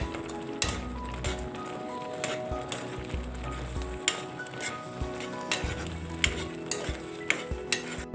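A spoon stirs a ridge gourd curry with sesame powder in a pan, giving repeated scraping and clinking strokes over a soft, steady sizzle, close and alone.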